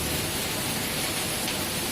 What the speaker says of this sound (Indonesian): Alah, hujan teman-teman.